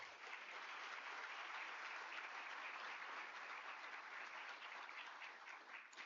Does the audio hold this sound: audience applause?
yes